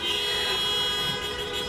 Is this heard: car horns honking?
yes